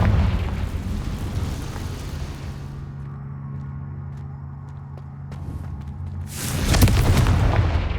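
The Confringo explosion spell in Hogwarts Legacy, cast at the High Keep: a loud blast opens, fades into a low rumbling tail, then a second heavy boom bursts near the end.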